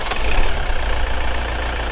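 Diesel engine of a Toyota RAV4 D4D idling with the mass airflow sensor unplugged, a steady low rumble held close and constant throughout, with no talk.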